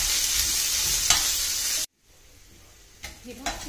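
Chopped onions frying in a pan toward golden brown give a loud, steady sizzle, broken by a brief cut before the hiss returns with light stirring scrapes.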